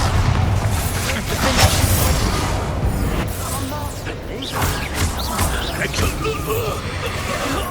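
Booming spell blasts from the Bombarda explosion spell in Hogwarts Legacy, dense and continuous amid combat clatter, crashes and game voices over a constant loud rumble.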